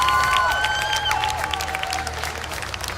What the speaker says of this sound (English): So, send a round of applause.